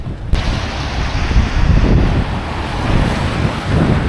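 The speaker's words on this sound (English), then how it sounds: "not cold but windy, very much." Strong wind roars steadily across the microphone beside a roadside on the drive from Istanbul toward Georgia, loud and close with rolling gusts and no voices.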